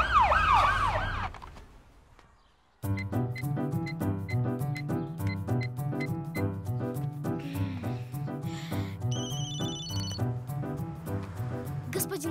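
An ambulance siren wails in a rising and falling sweep for about two seconds in a Belarusfilm feature, then fades out before loud music begins.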